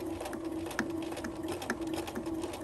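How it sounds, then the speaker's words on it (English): A sewing machine stitches forward along a fabric zipper pouch, giving a steady, close mechanical hum with a faint repeating tick throughout. "Then I'm going to continue to sew forward"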